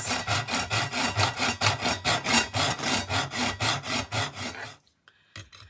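Hand hacksaw cutting back and forth in an even rhythm of about four strokes per second, loud and close, stopping abruptly near the end followed by a few light clicks.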